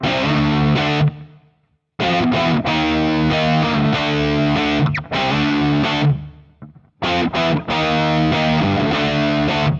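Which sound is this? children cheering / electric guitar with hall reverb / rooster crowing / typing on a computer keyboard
electric guitar with hall reverb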